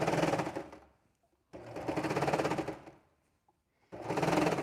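A serger sewing machine stitches fabric in three quick bursts of rapid mechanical chattering, close and moderately loud, with short silent gaps between runs.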